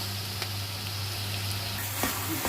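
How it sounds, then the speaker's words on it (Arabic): Duck frying with onions, peppers and spices, a steady soft sizzle and crackle with occasional light stirring clicks, close and quiet with no talk. "شوح بقى البط دون كده بالبصل والحاجه والفلفل والبهارات"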